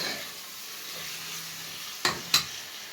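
Meat and onion sauté hard in a pan for okra stew, a steady soft sizzle with a brief hum, then two sharp stirring scrapes near the end.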